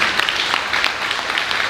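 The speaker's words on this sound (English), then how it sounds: "Please give a big round of applause to them." Audience at an art showcase event applauding, a steady, dense spatter of many hands clapping at close range, brief and even in loudness throughout.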